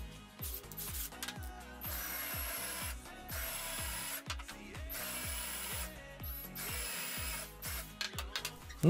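Power drill driving screws to fasten wooden workpieces together while building a homemade corner clamp, with repeated short bursts of motor whine and ratcheting clicks close by.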